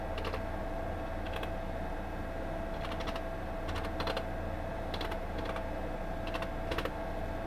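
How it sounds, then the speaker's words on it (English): Someone types a short command on a computer keyboard, producing quiet irregular clusters of key clicks with pauses between bursts, close by and alone. "now we're going to try to type in Gpedit.msc and see what happens"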